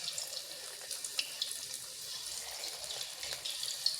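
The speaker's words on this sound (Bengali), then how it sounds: "এবার একটা একটা করে সোয়াবিন তেলের মধ্যে দিয়ে দেব।" Soybean chunks dropped into hot oil in a wok: a faint, continuous sizzle and crackle with small pops scattered throughout, heard close with no talking.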